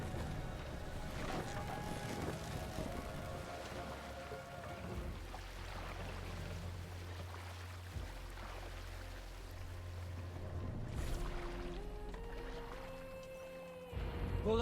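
A Viking sailing ship moving across water in Assassin's Creed Valhalla, a steady wash of waves and wind with low creaking hull tones throughout, no talk.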